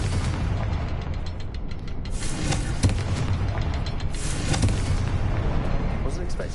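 The Confringo blasting curse explodes in Hogwarts Legacy, a loud, dense rumbling blast with crackling debris that fills the whole stretch, with a sharper thump partway through.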